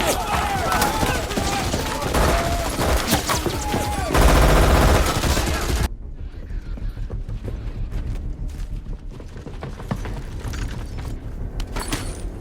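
Dense bursts of gunfire rattle over loud action-movie audio, shifting partway through into a quieter, muffled stretch with scattered impacts.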